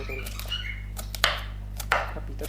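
Knife chopping pumpkin into small pieces on a board, a few sharp separate chops with quiet gaps, close and fairly soft, over a steady low hum.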